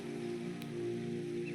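Heavy rain pours down steadily in a continuous, even hiss with no talking over it.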